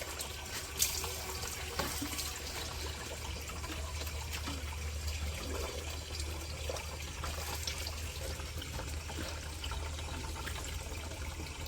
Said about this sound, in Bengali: তো যাই হোক পানিগুলো সব ভইরা নিয়ে নেই